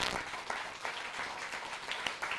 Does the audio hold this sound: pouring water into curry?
no